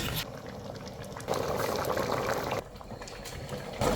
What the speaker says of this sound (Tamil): நல்லா கொதி வந்துருச்சுங்க